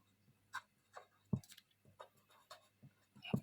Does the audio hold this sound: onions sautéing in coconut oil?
no